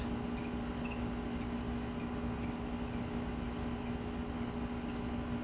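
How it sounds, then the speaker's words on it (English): Dense, steady cricket chirping fills the air, a continuous high-pitched trill with a constant insect hum underneath and no voices. "I've got crickets and frogs everywhere tonight."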